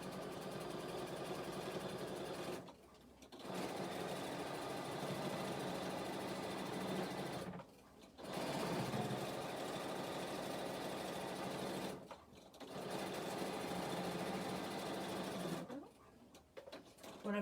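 A sewing machine top stitching runs in long continuous bursts of steady mechanical whirring, pausing briefly between runs, close and clear with no talk over it.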